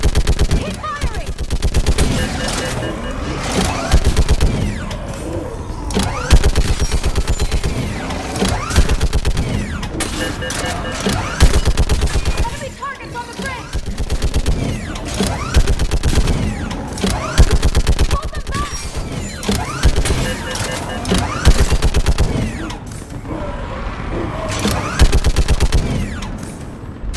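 Rapid automatic gunfire from the Mass Effect 3 video game, dense bursts of shots rattling almost continuously and loudly, with voices calling out over the battle.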